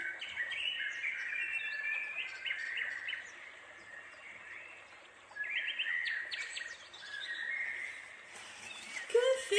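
Several birds twitter and chirp steadily at a distance, with brief pauses and a sharper, closer call near the end.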